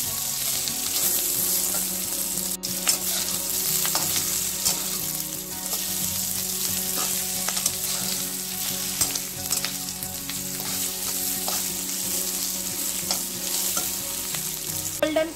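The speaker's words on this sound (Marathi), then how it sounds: "आता हे आपण सगळं कांदा, लसूण, डाळ आपण सगळं परतून घेणार आहोत।" Onion, garlic and lentils sautéed in a pan until golden for Maharashtrian katachi amti give a continuous close sizzle of frying in oil, with occasional stirring scrapes and no talking.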